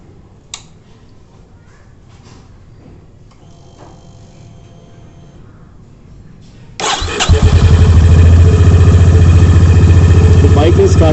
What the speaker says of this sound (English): let me start the bike and tilt it